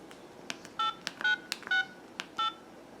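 Keypad tones sound on an LG Exalt 2 flip phone as digits are entered: several short, clear beeps in an uneven sequence, close and distinct, with faint button clicks between them and no talking.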